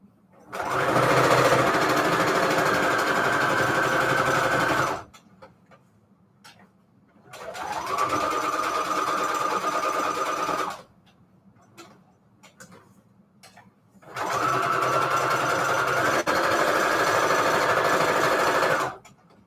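Paper strips being stitched for Christmas index journal cards on a sewing machine, heard as three loud, steady whirring runs of a few seconds each, split by short quiet gaps with faint handling clicks.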